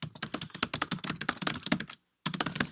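Rapid typing on a computer keyboard, a dense run of close, crisp key clicks, a short pause, then more typing, with no voices.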